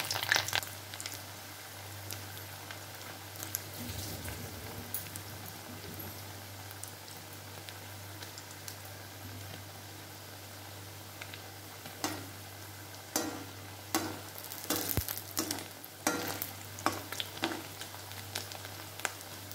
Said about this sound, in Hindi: अब इसमें मैं पनीर ऐड कर रही हूँ फ्राई कर।